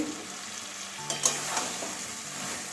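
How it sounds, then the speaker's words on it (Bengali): Bottle gourd stir-fried in spice paste in a pan sizzles close up, with a few scraping stirs and soft clatters over the steady hiss. "লাউটা মশলার সঙ্গে ভালো করে কষিয়ে নেব ভালো করে লাউটা কষাবো মশলার সঙ্গে"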